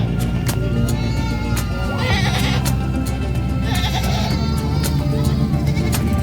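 Goats bleat repeatedly and loudly at the San Carlos City livestock market, overlapping calls from several animals rising above a dense crowd murmur, with sharp clicks and knocks scattered throughout.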